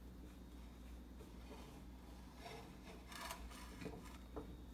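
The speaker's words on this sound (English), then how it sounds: "First, we have to scrape the sides using a spatula." A spatula scrapes around the sides of a pan holding a no-bake chocolate cake, giving soft, uneven rasping strokes over a steady low background hum, with a few louder scrapes toward the end.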